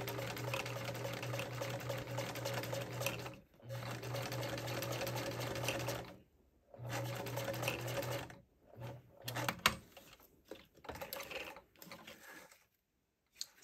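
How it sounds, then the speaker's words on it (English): A sewing machine stitches fabric for a vintage travel bag, running in steady close bursts of rapid mechanical whirring and needle clatter, with short pauses and a few brief start-stop runs near the end. "adjustments I have to make to my machine to get a decent stitch"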